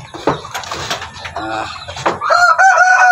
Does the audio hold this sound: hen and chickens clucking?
yes